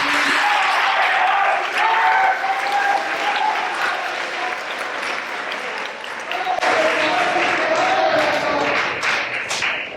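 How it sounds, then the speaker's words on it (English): Sustained applause from a crowd, many hands clapping steadily and loudly throughout, with a slight swell partway through. "let's give all the students a round of applause"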